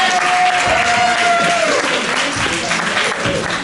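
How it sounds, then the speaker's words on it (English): An audience at a coffee hour claps loudly and steadily, a dense burst of applause that fades slightly near the end, with a faint voice underneath. "another round of applause for John."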